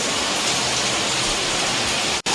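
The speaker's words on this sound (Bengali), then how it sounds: "এরকম বৃষ্টি হচ্ছে দেখো" Steady heavy rain pours down in a dense, continuous hiss, loud and close, with a brief dropout near the end and no talking.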